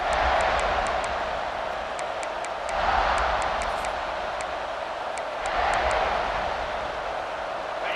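Stadium crowd noise in EA Sports College Football 26 at a South Carolina versus Tennessee game, a continuous roar that swells twice, with faint sharp clicks above it and no speech.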